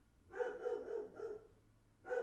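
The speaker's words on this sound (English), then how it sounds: "This dog does not ever shut up." A household dog barks in a run of four or five close, loud yaps in a home, pausing, then another bark at the end.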